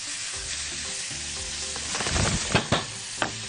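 Chicken liver in a seasoning mix sautés in a hot pan with a loud, continuous close sizzle, broken near the end by a few sharp clacks of stirring.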